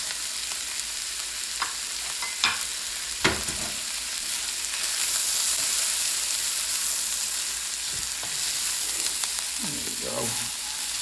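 Shrimp frying in a wok over medium-high heat in a little fat and avocado oil, a steady hissing sizzle with scattered stirring clatters and scrapes, close and moderately loud.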